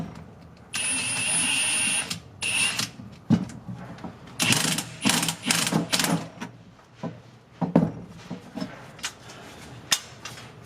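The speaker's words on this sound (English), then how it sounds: "And then we'll impact nip the damper up." Impact wrench nipping up a damper on a BMW E28 build, a sustained loud whirring burst followed by several short rattling hammering bursts, close up with clanks between them and no talking.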